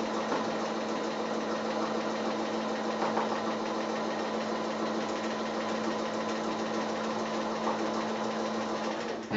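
Close and steady, a sewing machine runs continuously while free-motion quilting a line along fabric, its fast mechanical chatter and hum holding an even level throughout.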